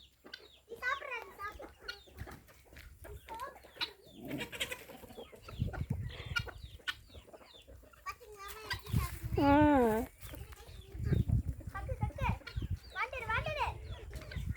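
Chickens crowd and cluck around someone eating at home, with a dog nearby, their excited clucks and calls rising through steady talk from a person nearby.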